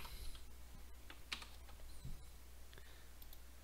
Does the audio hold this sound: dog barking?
no